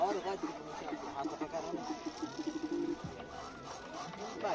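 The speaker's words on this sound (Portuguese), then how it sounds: "Só uma pomba" Pigeon cooing near a cargo terminal in Guarulhos, São Paulo, soft repeated low coos under steady background noise and some nearby chatter.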